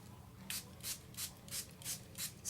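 A handheld mister spraying a mix of water, gum arabic and artist pigment gives seven short, airy hisses in a steady rhythm, quiet and close with no talking.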